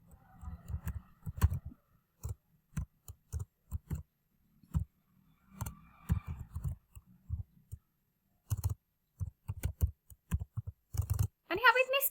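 Computer keyboard tapped while typing Python code, sparse clusters of soft keystrokes and clicks, close and quiet, with a voice talking intermittently between them.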